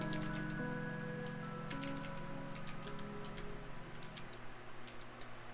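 Typing on a computer keyboard, bursts of quick clicking keystrokes in irregular clusters separated by short pauses, close and fairly quiet over a steady low electronic hum, without any voices.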